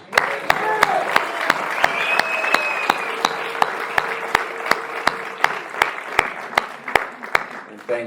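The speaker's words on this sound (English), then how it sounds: "let's give a round of applause for Cleo" Audience at an Alcoholics Anonymous meeting giving a round of applause: continuous, fairly loud clapping from a room full of people, with a steady, regular ticking running through it and voices faintly underneath.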